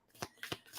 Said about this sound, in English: it can happen when you're shuffling or just when you're handling the cards